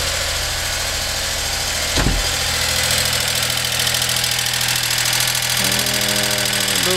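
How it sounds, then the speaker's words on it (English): Rebuilt JDM engine in a Geo convertible idling steadily just after its first start, a loud continuous mechanical drone with light ticking and a brief thump near the start, no voices. "that's the JDM engine right there"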